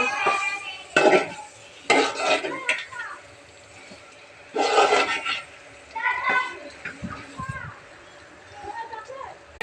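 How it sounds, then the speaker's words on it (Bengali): A spoon scrapes and clanks in a pot as meat and potatoes are stirred and fried, in irregular bursts of metal clatter, with children's voices in the background. "এখন দিয়ে দিব মাংস আর আলু একসাথে কষাচ্ছি।"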